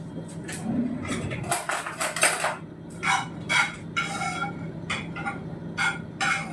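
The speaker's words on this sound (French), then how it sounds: "je fais quelques amandes grillées" Sliced almonds toast in a pan for a chocolate pear tart, with repeated close metallic scrapes and clinks of a utensil against the pan in short irregular bursts.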